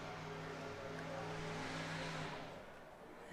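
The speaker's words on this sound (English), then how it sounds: "some idiot has to drive his truck with the gas pushed down" Pickup truck driven hard with the gas pedal held down, a sustained engine roar with steady low harmonics that fades after a couple of seconds, heard at some distance near a girls' JV soccer field.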